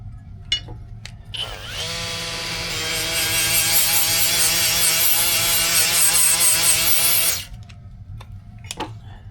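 A 3M bristle disc spinning at 10,000 RPM grinds bare metal: a loud, rising mechanical whine with a harsh abrasive rub holds steady for about six seconds, then cuts off, leaving quiet room noise.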